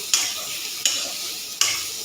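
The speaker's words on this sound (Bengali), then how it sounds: "কড়া করে ভেজে নিচ্ছি। বেগুন আর উচ্ছে ভাজা হয়ে গেছে" Bitter gourd and eggplant frying until crisp, a loud continuous sizzle punctuated by three evenly spaced spatula strokes against the pan, close up and without speech.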